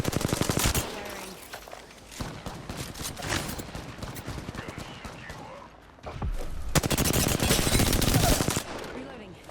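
Rapid automatic gunfire crackles in the battle royale shooter Apex Legends. Dense bursts of shots come in two loud volleys separated by a quieter stretch of scattered fire.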